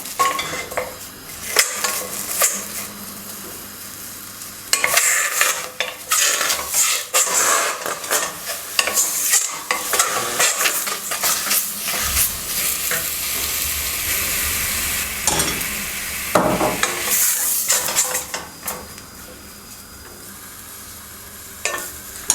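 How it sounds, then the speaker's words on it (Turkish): Loud, continuous sizzling of chicken searing in a hot pot, with metal utensil scrapes and clanks as it is stirred. "Şöyle tenceremde önce bir dağlayacağım."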